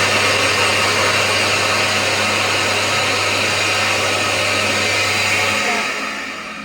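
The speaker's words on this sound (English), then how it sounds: "So, soap, water, and then a hand dryer." A hand dryer blows loudly and close with a steady roaring whoosh and a low hum, then cuts off and winds down near the end.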